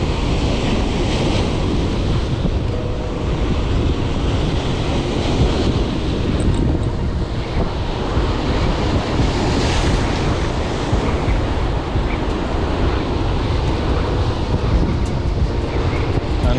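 Heavy surf breaks on the Montauk shore during hurricane swells, a continuous loud roar of crashing waves mixed with wind buffeting the microphone, with no talk.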